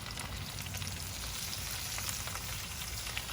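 Onions and potatoes seasoned with AP rub sizzle steadily in a cast iron pot set on a Weber Genesis gas grill, a dense, continuous crackling fry close by with no talking over it.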